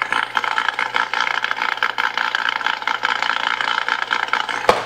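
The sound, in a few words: Mazda RX-7 rotary engine idling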